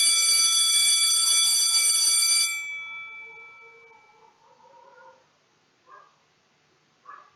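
A loud, continuous electric school bell ending recess rings for about two and a half seconds and then stops, leaving faint ringing and a few soft meows.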